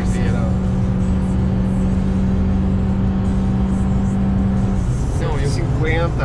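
Inside a 2011 Honda Civic LXL with a 140 hp engine, a steady engine drone accelerates and changes pitch at a gear shift from third to fourth, heard beneath continuous conversation.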